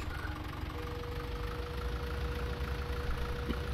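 A tractor engine idling in a farming video game, a steady low rumble with a faint constant hum, moderately quiet and unchanging throughout.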